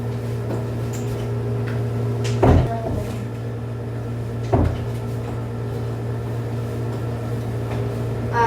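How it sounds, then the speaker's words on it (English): A door is pushed shut in a room where a student nurse is demonstrating a procedure. Two short, dull knocks stand out over a steady low electrical hum. "Now allow me to close the door so that no one from the outside will be able to disturb you"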